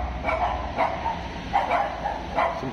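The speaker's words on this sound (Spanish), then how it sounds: "me asustó el perro" A dog barks and yips in short repeated bursts, about four sharp calls spaced roughly evenly, fairly close, inside an abandoned student house, with a low steady background rumble and no talk.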